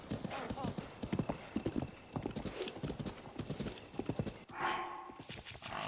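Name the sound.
horse galloping and neighing in Zelda (video game)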